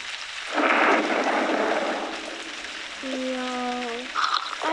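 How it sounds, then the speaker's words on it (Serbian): A thunderstorm with rain in the video game Toca Life World has a rolling thunder rumble near the start over a constant rain hiss. Brief tonal game chimes follow later. "Mala grmi."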